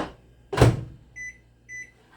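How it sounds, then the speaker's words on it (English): Microwave oven in a home kitchen during brownie baking: a loud thud as the door shuts or the unit is handled, followed by two short electronic beeps as the timer is set, with no one talking. "Okay, let's put it in the microwave."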